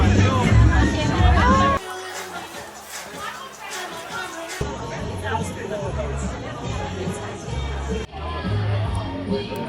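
Lively crowd hubbub at a Christmas market in Shanghai, with dense overlapping chatter and voices close by, loud and continuous, broken by abrupt shifts in level.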